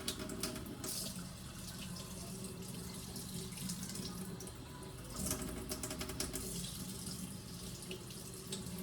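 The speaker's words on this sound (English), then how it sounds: "when you are rinsing, you want to make sure that your hands are facing down." Hands are rinsed under a running tap during handwashing, water streaming in a continuous faint splash with brief louder bursts as the hands move, no talk.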